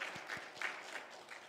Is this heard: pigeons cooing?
no